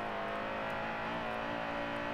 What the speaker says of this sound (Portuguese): Eu acho muito bacana esse som que faz na marcha.